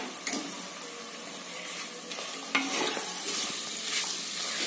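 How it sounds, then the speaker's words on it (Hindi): Chicken pieces sizzle and get stirred in a clay matka pot for street-food-style biryani, a close crackling fry broken by scraping stirs and a sharp clank near the middle, the sizzle growing louder afterward, with no voices. "चिकन डाल के थोड़ा देर इसको भून लेते हैं"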